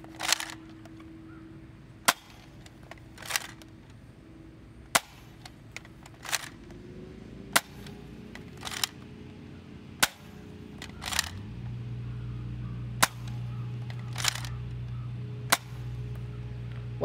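An Adventure Force Thundershot dart blaster fires again and again, giving sharp snapping pops about every second or two. A low mechanical hum runs underneath, and there is no talking.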